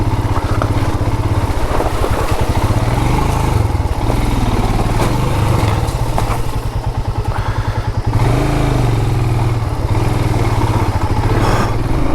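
Motorcycle ridden along a narrow, poor-condition mountain road with hairpin bends, its engine droning loud and steady throughout with rattling clatter and pulsing revs, heard up close with no talk.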